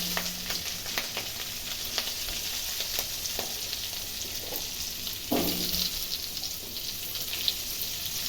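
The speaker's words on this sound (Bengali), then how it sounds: "তো এই তেলে আমি আলুগুলো ভেজে নেব।" Potatoes frying in hot oil in a pan, giving a steady, close crackling sizzle throughout, with a few brief clinks and stirring scrapes.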